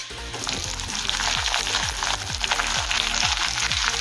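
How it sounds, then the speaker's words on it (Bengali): Capsicum and onion sizzle loudly in hot oil over already-fried chopped ginger and garlic, with steady crackling frying and repeated scraping stirs throughout. "এখন দেবো ক্যাপসিকাম আর পেঁয়াজ"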